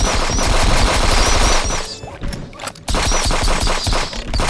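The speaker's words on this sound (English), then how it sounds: "How are you shooting me through the wall?" Rapid video game gunfire rattles in dense automatic bursts, loud and close, with a brief lull before the shooting resumes.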